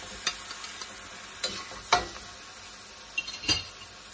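Noodles for pad see ew are stir-fried in a pan under a soft constant sizzle, with intermittent scrapes and clinks of a utensil against the pan every second or so.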